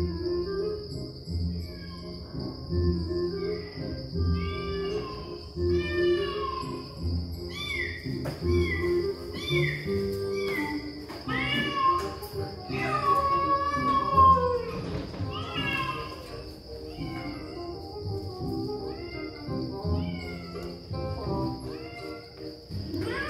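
Repeated cat meows played from inside a box, sounding over a busy background of chirping insects or crickets and steady ambient noise, with voices talking throughout.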